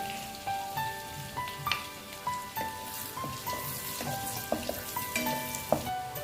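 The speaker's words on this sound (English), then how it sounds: "Now add the garlics and saute them till they are golden brown." Garlic sautés in melted butter in a pan for an Alfredo white sauce pasta, making a continuous crackling sizzle with faint steady tones running through it.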